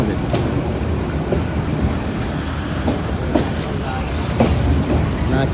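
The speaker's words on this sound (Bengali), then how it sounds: "গাড়ি এই মুহূর্তে এন্টার করছে দিনাজপুর রেলওয়ে স্টেশন" A train rolls into Dinajpur railway station with a dense, loud rumble and rhythmic clattering of wheels over the rail joints, the noise steady and close throughout.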